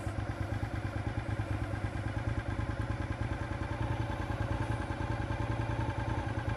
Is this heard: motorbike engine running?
yes